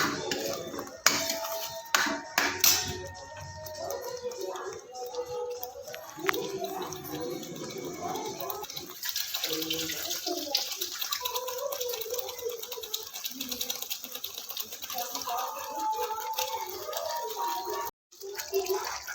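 Water is poured into a mixer-grinder jar, splashing softly while a person talks nearby over faint kitchen noise.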